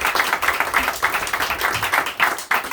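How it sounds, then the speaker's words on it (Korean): A church congregation at a Sunday service claps in welcome for returning members, a steady rhythmic round of fairly close, loud applause with pulsing beats. "박수로 환영하겠습니다"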